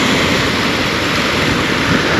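Wind blows at the Black Sea shore in Lazarevskoye, Sochi, as a loud, steady roar close to the microphone, mixed with surf and with no voices.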